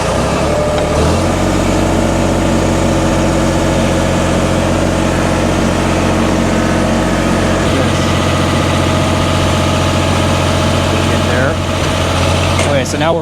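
The engine of a lift at a waterpark under restoration runs at a steady idle with a deep, loud rumble throughout, and a faint voice is heard under it near the end.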